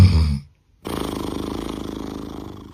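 A man's snoring up close: a short rough snort, a brief silence, then a longer rattling, fluttering breath with a fast, even vibration.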